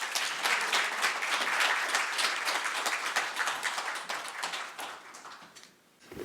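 Audience at a lecture event clapping warmly for a National Assembly member as he is welcomed, a dense even applause that holds steady and then tapers off near the end.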